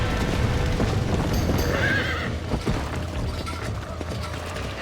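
Horse neighing and whinnying in the Red Dead Redemption video game while escaping a burning barn, with steady galloping hoofbeats and a dense background bed of game sound running throughout.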